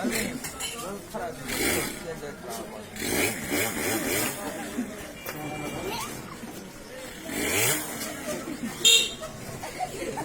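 A man mimics a motorcycle engine starting with his mouth, a buzzing, sputtering vocal rumble that rises and falls in bursts over about ten seconds, close and fairly loud with voice-like texture throughout.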